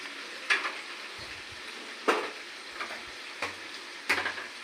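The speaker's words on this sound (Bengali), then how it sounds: "আমরা বরবটা ভাজি করছি" Long beans fry in a pan with a steady faint sizzle, while a spatula scrapes and taps against the metal four times at irregular intervals, close by.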